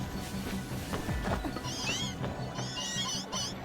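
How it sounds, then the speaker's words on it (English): Alpha Pokémon meowing in the video game Pokémon Legends Z-A: a couple of wavering, high cat-like cries rise over a busy background of game music and ambience. "I hear an alpha meow."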